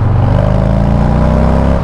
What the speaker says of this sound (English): oh, I love this Bassani exhaust